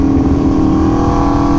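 An Aprilia Tuono V4 Factory motorcycle accelerating, a loud, close, sustained engine drone that holds a steady pitch through the short burst, with no talk.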